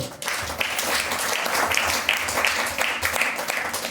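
A church congregation at a Sunday worship service claps loudly and steadily, a dense wash of many hands beating together in a roughly regular rhythm.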